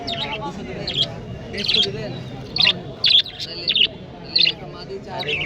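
Bright bird chirps and calls burst repeatedly over a dense, murmuring crowd of voices at the Nowhata pigeon market, with many caged pigeons nearby.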